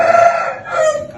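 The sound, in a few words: chickens, young April chicks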